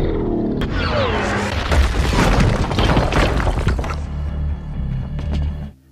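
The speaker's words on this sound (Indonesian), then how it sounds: "Pria misterius itu lalu menerobos penjara dengan meledakkan motornya ke pintu masuk penjara." A loud, sustained crash and blast as a motorcycle explodes against a prison entrance in the film G.I. Joe: Retaliation, with shattering debris and heavy rumbling, fading into a low roar before cutting off abruptly.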